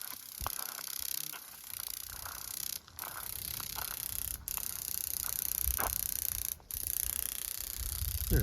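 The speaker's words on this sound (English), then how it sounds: "There's grasshoppers making that noise." Grasshoppers give off a steady, high-pitched buzz that cuts out briefly a few times, with soft clicks and rustling nearby and no talking.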